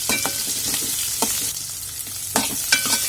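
Onion roasting with spice masala in a pan over low to medium heat for misal, a dense close sizzle with a few sharper stirring scrapes and clinks, no talking.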